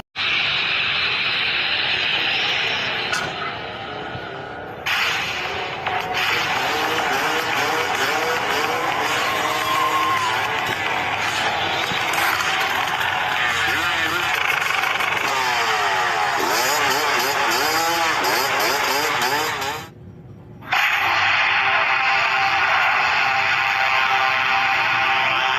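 A Yamaha RS100 two-stroke motorcycle revs hard at high RPM, a loud, buzzy, sustained engine note with rising and falling pitch, dipping briefly near the end before roaring again, no speech.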